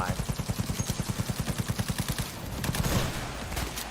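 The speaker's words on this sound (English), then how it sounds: "There, I shot the grenade out of the air." Smart gun fire in a video game rattles out as a fast, even string of about twenty shots, then breaks into a noisier, louder blast before tapering off.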